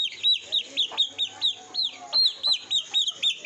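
Twenty-day-old country poultry chicks cluck and chirp in quick repeated bursts at close range, a rhythmic string of calls with a faint low hum behind them.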